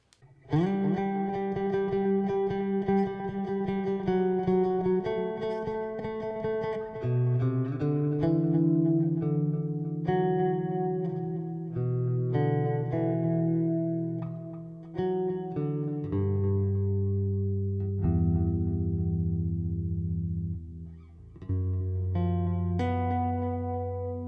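A bass guitar played through reverb and distortion effects rings out in sustained, overlapping notes. The notes walk gradually downward in pitch, loud and close, with a lingering reverberant tail and no talking.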